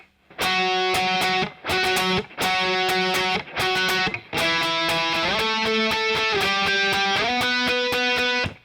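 Loud overdriven electric guitar plays a full tab line from a song's bridge: bursts of rapid chopped octave strums separated by brief gaps, then a sustained run of strokes that climbs in pitch, with no talking over it.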